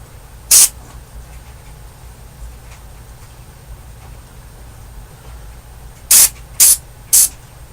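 Contact cleaner sprayed on a Mesa Boogie .22 Cal tube amp in loud close bursts of hiss, one short spray followed by three quick ones a few seconds later, with quiet in between.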